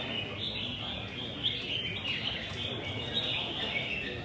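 Songbirds at a bird song competition, a continuous high chirping and trilling from several birds, moderately loud over a low background murmur of an outdoor gathering.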